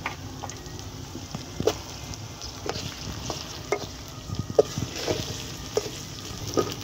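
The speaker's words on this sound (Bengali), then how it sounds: "পেঁয়াজগুলা ভাজা হয়ে আসলে এখন আমরা মরিচ দিয়ে দিব।" Onions with chilies fry in a pan over a wood-fired stove on a winter day, a soft continuous sizzle under repeated light clinks of a stirring spoon, close and moderate in level.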